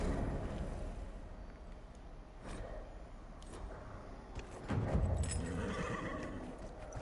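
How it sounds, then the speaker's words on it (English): In the video game Dragon Age Inquisition, a horse whinnies with a couple of clear, close neighs amid clip-clopping hooves and low background ambience, fairly faint overall, with no speech. "I got my horse, yay!"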